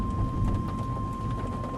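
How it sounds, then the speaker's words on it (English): Heavy rain pours steadily with low rolling thunder during a storm chase near the El Reno tornado, a dense, continuous roar close by with no voices. "See, the rain is behind us."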